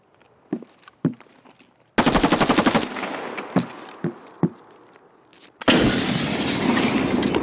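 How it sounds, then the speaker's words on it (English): Video game gunfire during a Rainbow Six Siege-style raid on Lighthouse: scattered single shots, then a sustained automatic burst, more isolated cracks, and a final loud roaring volley, all close and harsh with no talking. "Why you are shooting at me?"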